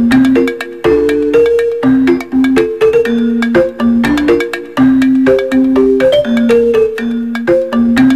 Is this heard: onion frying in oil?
no